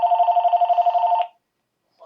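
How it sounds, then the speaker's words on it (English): Telephone rings with a rapid warbling electronic trill for just over a second, then stops, close and clear in a quiet room. "I hate when the phone rings."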